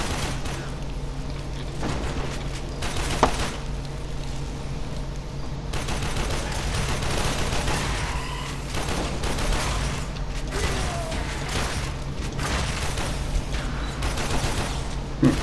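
Sustained gunfire in the Warframe video game, a dense rattling stream of shots with a few louder bursts, loud and continuous with no pauses.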